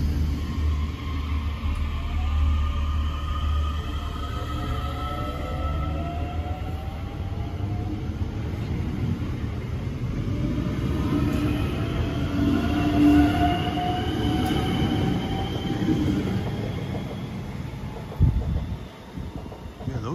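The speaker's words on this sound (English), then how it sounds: "those things sound an awful lot like Long Island Railroad Kawasaki M9s" A Dublin-area commuter electric train rumbles through Raheny station, a sustained rolling roar with whining motor tones rising and fading, and a few clunks near the end.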